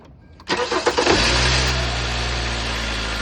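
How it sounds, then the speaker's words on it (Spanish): A car engine starts after a PCV valve replacement and throttle body cleaning: a brief cranking whir catches into a loud rev, then settles into a steady, even idle close by, with no talking. "ahorita vamos a proceder a encender el carro y ver cómo funciona"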